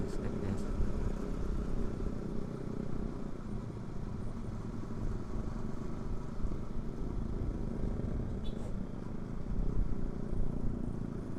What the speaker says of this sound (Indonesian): Ini motor CBR kan?